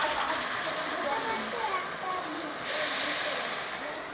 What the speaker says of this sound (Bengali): গুড়টা কি সুন্দর ফুটছে দেখুন তেলের মধ্যে,